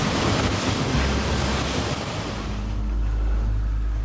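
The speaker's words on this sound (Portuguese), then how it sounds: "a proa e as hélices criam turbulência e um efeito de ondas na água." A Coast Guard icebreaker's bow and propellers churn the sea into turbulent waves, heard as a loud, continuous roar of rushing water with a deep rumble and wind buffeting, no voices over it.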